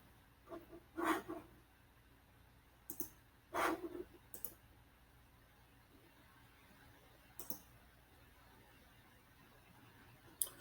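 Computer mouse clicked at a desk: a handful of faint, sharp clicks, some paired in quick doubles, scattered over a quiet room tone with no talk.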